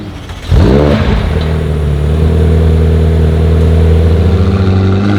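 A Lamborghini Huracán Tecnica supercar revs hard on a Zurich street at night, its engine note sweeping upward, then settling into a loud, sustained growl up close with no talking.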